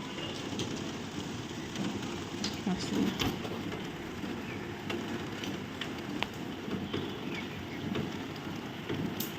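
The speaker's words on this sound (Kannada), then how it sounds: "ಫುಲ್ ಜೋರು ಮಳೆ ಬರ್ತಾ ಇದೆ" Steady, dense rainfall hisses continuously throughout, a heavy downpour with no breaks and occasional louder spatters.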